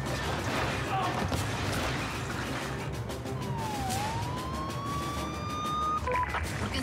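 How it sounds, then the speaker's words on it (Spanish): A police siren wails under a dense, noisy backdrop of a tense dramatic scene, its rising and falling tone sounding fairly distant and steady for several seconds, with a brief sharper sound near the end. "¿Por qué encendieron las sirenas?"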